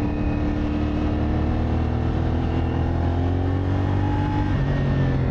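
CFMOTO SR450 motorcycle engine revving and accelerating steadily, loud and continuous with a rising, shifting tone, heard up close on its own without voices.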